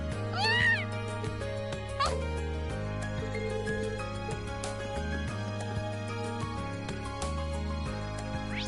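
A cat in the video game Trails of Cold Steel meowing when fed, one clear rising meow near the start and a shorter one after, over looping game music.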